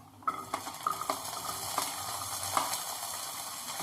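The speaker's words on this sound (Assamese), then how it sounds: "অকণমান নহৰুকেইটা ফ্ৰাই কৰিম, অকণমান টাইম, বেছি টাইম নহয়" Garlic fries in a little oil in a kadai for an Assamese jolokia pickle, giving a steady sizzle. Sharp metallic clinks and scrapes of stirring cut in near the start, then the sizzling carries on alone.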